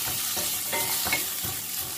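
Onion frying with ginger in a hot pan, a dense crackling sizzle with a few quick stirring scrapes, close and steady for two seconds, with no talking.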